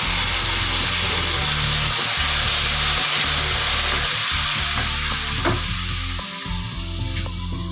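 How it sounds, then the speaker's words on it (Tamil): Ingredients frying in oil in a pan for a sweet recipe, a loud continuous sizzle with a rumbling undertone and occasional clicks of stirring, slightly easing toward the end. "நம்ம இதை போட்டு நல்லா ஃப்ரை பண்ணிக்கலாங்க"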